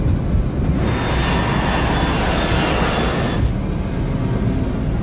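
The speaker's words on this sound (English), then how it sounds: "The plane takes off from Stansted Airport at 6:36 p.m." A Korean Air cargo jet takes off from Stansted Airport, its jet engines swelling into a loud, broad roar that peaks for a few seconds and then eases back as a thinner whine carries on alone.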